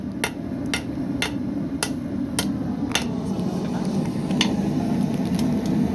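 A blacksmith hammers hot, oxidized metal on an anvil, with sharp ringing strikes at a steady rhythm over a constant background hum and no talk.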